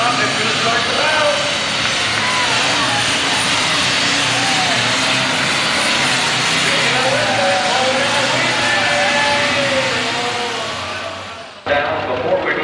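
Super stock pulling tractor competing at a 1993 NTPA Grand National tractor pull in Canfield, Ohio, its engine roaring loud and sustained for most of the run before cutting off abruptly near the end, with an announcer talking over it.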